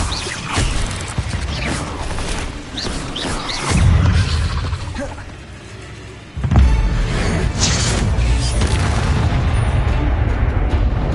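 Incendio fire spell being cast in Hogwarts Legacy, heard as loud, dense booming bursts of game effects that swell, dip for a moment, then erupt again with a heavy blast and carry on roaring.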